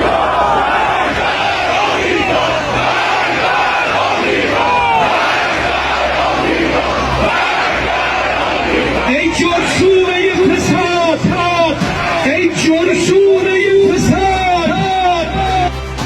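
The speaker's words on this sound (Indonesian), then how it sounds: "Rakyat Iran melakukan unjuk rasa anti-Amerika sembari meneriakan slogan Death to America" Large crowd of Iranian protesters at an anti-American rally chanting slogans, a dense roar of many voices, with rhythmic shouted chants becoming clearer and louder in the second half.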